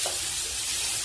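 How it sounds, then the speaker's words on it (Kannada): Onions fry in a pan with a dense, even hiss of sizzling oil, brief and steady with no other sounds. "ಈರುಳ್ಳಿ ಚೆನ್ನಾಗಿ ಫ್ರೈ ಆಗಲಿ."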